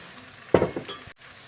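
Beef goulash crackles in a pan as broth is poured in, with a burst of sizzling and a stir, followed by a faint clink before the sound cuts off abruptly.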